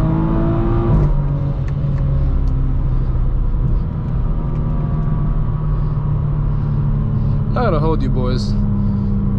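A BMW G82 M4 Competition pulls hard, its engine rumbling and building steadily under nearby talk from people inside the car, with a short whine near the end.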